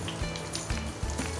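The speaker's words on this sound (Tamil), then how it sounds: "நம்ம எண்ணெயில் போட்டு அந்த கட்லெட்டை பொரிச்சு எடுத்துக்கலாம்." Noodle cutlets fry in hot oil, giving a dense, continuous crackling sizzle with small pops, close and steady throughout the short moment.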